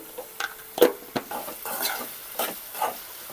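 A homemade dried fish and tomato curry with fenugreek leaves and salt being stirred in a pan, soft scattered scrapes and clinks of a spoon over a faint low sizzle, close and quiet with no talk.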